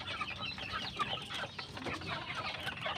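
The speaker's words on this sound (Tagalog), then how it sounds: "Saka dito may 5 tayo dito mga kapanok." Chickens in a backyard coop clucking steadily, several birds murmuring and calling over one another at close range with no gaps.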